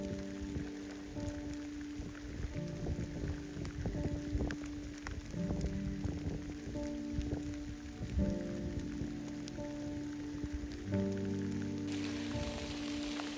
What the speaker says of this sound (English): Just a quick video because it is pouring.